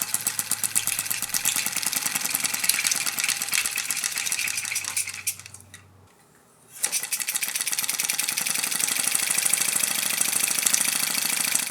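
A homemade engine running after mineral oil was injected into its exhaust ports, firing in a fast, loud rattling beat up close, briefly dying away before picking back up.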